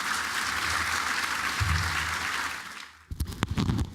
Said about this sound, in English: So let's begin it with a round of applause for all three of them to make them feel good.